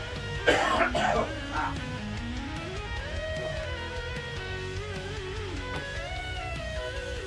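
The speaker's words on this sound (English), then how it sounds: "you probably are hearing it in the background hacking away over there" A person coughs a few harsh times in the background early on while a pinball machine keeps playing its electronic tones and music, then the coughing fades out.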